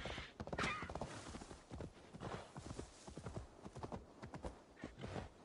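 Horse hooves clip-clop steadily at a riding pace in Assassin's Creed Valhalla, near and clear, with a brief whinny early on and no talk over it.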